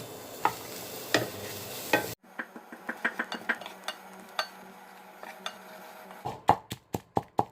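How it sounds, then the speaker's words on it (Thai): Shallots, garlic, lemongrass and galangal dry-roasting in a pan, with a burst of scraping and stirring at first, then a run of crisp ticks and pops, ending in a few sharp, louder clatters against the pan. "คั่วหอมแดงกระเทียมแล้วก็ตะไคร้ข่า ใส่ลงไป คั่ว ให้หอมก่อน"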